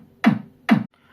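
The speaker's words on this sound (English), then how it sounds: "We've got a bass drum, which sounds a little bit like this." Two punchy, low bass drum hits, evenly spaced and played alone, each with a quick decay.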